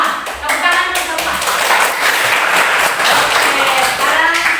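A class claps hands together in a classroom during a teacher-training lesson, a dense, steady patter of many hands running throughout with voices mixed in.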